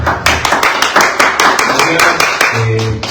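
A studio audience claps for guest trumpeter Pancho Ayala during an interview show: a short, fairly loud burst of quick, rhythmic applause from a small group.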